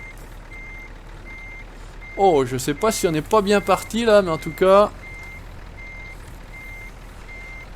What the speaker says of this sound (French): Avec le bip de recul.